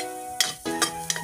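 Aromatics sautéing in a hot wok for leftover pancit turned into lomi, sizzling steadily with three bright bursts as they are stirred, close and moderately loud with no talk.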